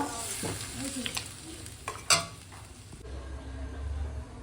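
Goat meat sautéing with spices and a splash of water in a pan, a steady close sizzle with spoon stirring scrapes and a sharp clink near the middle, calming toward the end.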